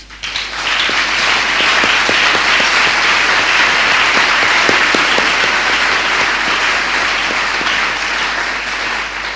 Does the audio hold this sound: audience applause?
yes